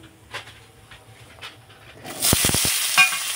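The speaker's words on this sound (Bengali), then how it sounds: "এখন মাছ ভাজা তেলে আমি দিয়ে দেব আলু।" Potatoes drop into hot oil left from frying fish, a quiet start with a few knocks before a loud burst of sizzling and popping takes over, close up.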